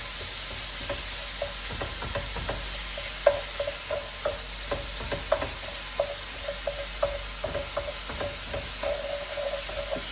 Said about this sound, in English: Okay, got my wooden fork. We're gonna brown our beef mixed in with our onions.